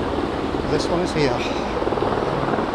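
A helicopter flies over the Victoria Embankment in London, its steady rotor drone low and distant beneath a voice talking and the general hum of the city.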